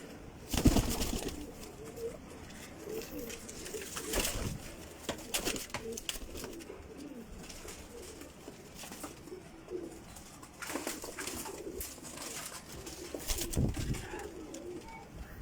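Pigeons coo repeatedly in low, throaty bursts, with occasional wing flaps and background chatter of a busy loft, close and moderately loud.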